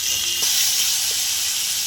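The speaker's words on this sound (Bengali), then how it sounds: "পেঁয়াজ কুচি দিয়ে দিলাম, পেঁয়াজটা ভাজা ভাজা করে নেব" A steady, bright hiss of chopped onions frying in a hot pan, continuous and close, with a few faint clicks and no voices.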